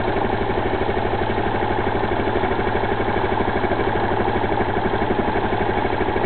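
Steady, loud idle of a 260cc scooter engine with a fast, even pulsing throb that holds at a constant pace, alone with no voices.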